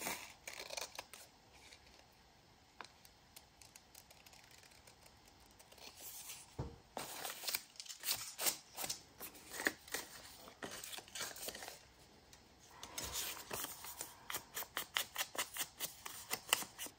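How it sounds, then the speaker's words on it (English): Scissors snipping along drawn lines in a craft piece, a quiet close series of crisp irregular cuts coming in bursts with short pauses between them. "So I'll cut a little bit inside of those lines because otherwise it will be too big."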